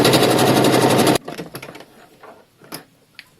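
A sewing machine stitches panties in a loud, fast, even whir for about a second, then stops abruptly. Faint handling clicks and rustles follow.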